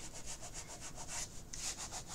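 Craft tape being burnished down onto a paper mini album page, a steady rhythmic rubbing with repeated close strokes and no talk.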